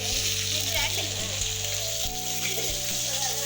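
Potato cutlets fry in a pan with a steady, fairly loud sizzle that runs throughout, punctuated by a few low thumps and clinks of handling.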